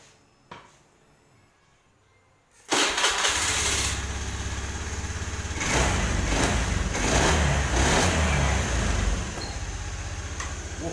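A fuel-injected Honda Beat motorcycle engine cranks and fires up after an ECU reset, settling into a loud, steady close-up idle with slight revving fluctuations, following a quiet moment with a faint click.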